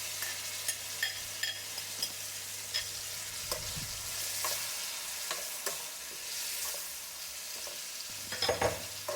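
A spatula scrapes and stirs a spice mixture with brinjal in a sizzling pan of oil, with a steady crackle of frying beneath irregular clinks and scrapes, close and continuous.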